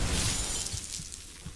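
A Molotov cocktail shatters in the Fallout 76 video game: a loud burst of breaking glass at the start, followed by fainter crackling and a few soft thuds as it fades.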